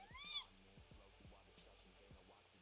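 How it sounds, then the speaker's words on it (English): A small cat gives a short, high meow near the start, close and fairly loud, followed by quieter indistinct rustling. "small cat noises"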